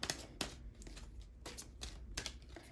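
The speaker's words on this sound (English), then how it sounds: "All right, let's shuffle some more." Oracle cards shuffled by hand in a quiet indoor setting, giving several soft papery riffles and flicks spaced irregularly across the moment, fairly faint and with no talking.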